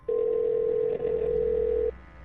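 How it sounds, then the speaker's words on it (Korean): A steady telephone ringback tone sounds alone in one long continuous beep with a tiny break near the middle, loud and close, then cuts off, leaving quiet low hum. "A장에게 전화를 걸어보았다고 합니다."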